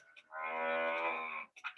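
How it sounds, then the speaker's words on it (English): A cow gives a single long, loud moo lasting about a second, close and clear against a quiet background. "It's a cow."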